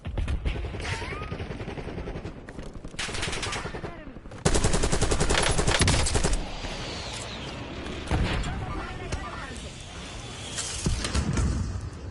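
Rapid bursts of automatic gunfire and single shots crackle through a first-person shooter match, loud volleys cutting in repeatedly over about twelve seconds amid background game effects.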